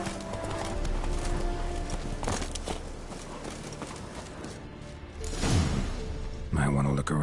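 A horse's hooves pound in a steady rhythmic clip-clop while galloping in The Witcher 3, running continuously at close range with other game sounds layered underneath.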